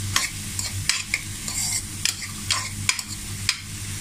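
Chopped bottle gourd for lauki sabzi stirred in a pan, spoon clacking and scraping in quick irregular strokes over a gentle sizzle, close up with no voices.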